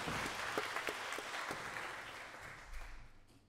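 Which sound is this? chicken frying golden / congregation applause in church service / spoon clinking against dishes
congregation applause in church service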